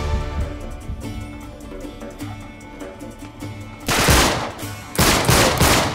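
Gunfire rattles in The Last of Us-style cover combat from Uncharted 3: Drake's Deception, aimed at a riot-shield enemy. After a quieter stretch of background hum, two loud automatic bursts come close together.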